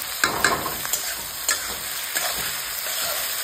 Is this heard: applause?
no